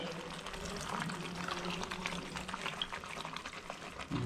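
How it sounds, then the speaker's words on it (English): Schezwan sauce mixture with ketchup and water simmers at a boil in a pan, a steady close bubbling and gurgling that runs alone and unbroken throughout. "Now let's give a nice boil"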